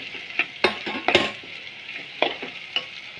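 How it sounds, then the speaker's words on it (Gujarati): Chili being stirred into vegetables frying in a pan for a Gujarati eggplant and potato dish, with a steady close sizzle broken by sharp metallic scrapes and taps of the spoon, and no speech. "હવે આપણે આ મરચું બધું નાખીને ઘડી આમ હલાવતા રહીશું"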